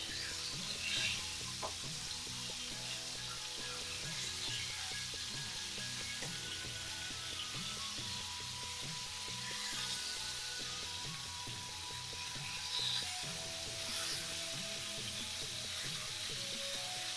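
Fish sizzles steadily in a hot frying pan over a raised flame while it is turned over, a continuous quiet crackle with faint scraping and clinks from the utensil, no voices.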